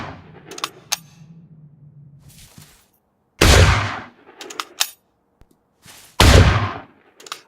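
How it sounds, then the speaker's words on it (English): Two loud video game gunshots, each followed by a long echoing reverberant tail, interspersed with metallic clicks and clanks of handling a gun. "A gunshot fired outdoors would sound drastically different than one fired in a mineshaft or a factory"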